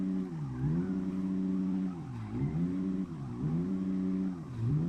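A BMW F10 engine in Assetto Corsa drifting in a multi-storey car park, revving up and down in repeated swelling surges, loud and continuous with no talk over it.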